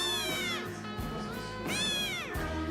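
A Munchkin kitten meows repeatedly, with clear rising-and-falling cries at close range and no other sounds around them.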